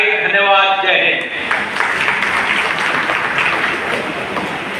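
An audience of journalists at a union function applauds the Bareilly mayor, Dr. Umesh Gautam, after his speech. A voice speaks briefly at first, then broad, even clapping takes over and continues loudly to the end.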